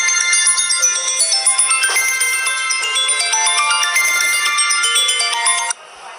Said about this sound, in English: Yeah, you can hear that ringtone in a different country.